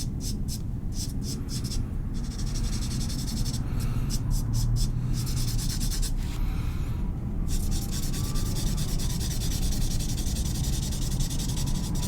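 Blending stump rubbing charcoal on toned paper during a portrait drawing, soft scratchy strokes in bursts with short pauses, close up over a steady background hiss.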